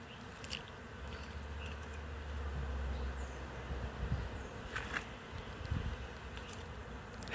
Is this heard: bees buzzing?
yes